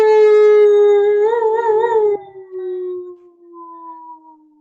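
A person gives one long, loud wolf-like howl during a guided breathing exercise, the voice imitating a wolf as it wavers, slides downward and trails off alone.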